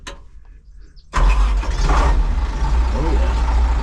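An old power shift tractor at a farm auction near Hillsboro, Kansas cranks briefly and then fires up into a loud, steady, deep diesel idle running close by, with people talking over it.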